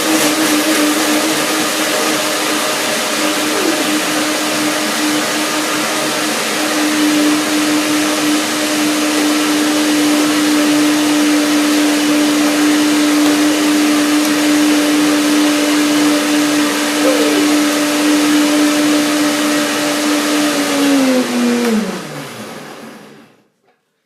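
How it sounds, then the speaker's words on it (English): Countertop blender whirring steadily as it purees a raw vegan cashew avocado cream dressing with garlic, pepper and salt, a loud continuous motor drone that holds its pitch, then winds down and stops at the end. "Blender dance."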